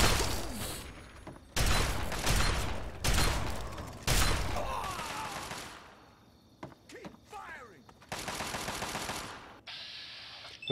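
Bursts of rapid gunfire from Fallout 3 combat come in loud separate volleys, some long and dense and others short, with quieter gaps holding scattered shots and clatter.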